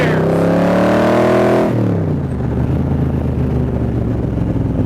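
A 1965 Shelby Cobra replica by Superformance revs hard and close, its engine pitch climbing and then dropping sharply at a gear change before it settles into a lower, rumbling pull.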